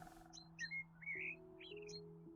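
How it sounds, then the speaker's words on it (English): Loud ambient birdsong from the video game House Flipper: a few bright chirps and short tweets repeat close up over a steady low tone. "Oh, birds are still loud."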